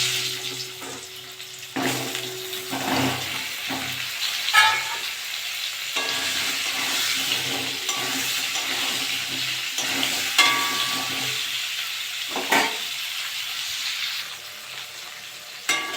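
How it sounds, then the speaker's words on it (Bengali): Pointed gourd (potol) pieces fry in hot oil left over from frying potatoes for a prawn dish, giving a steady, close sizzle with occasional stirring clatter throughout. "ওই তেলে আমি পটলগুলো ভেজে নেব।"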